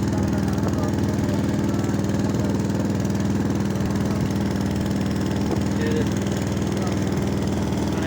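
A tractor stuck on a road cut between Johi and Chandan idles steadily with a close, loud, unbroken engine drone, and voices talk over it.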